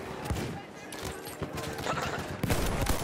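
Machine gun fire in a video game, rapid bursts of gunshots mixed with scattered game sounds, moderately loud, while a player talks over the action.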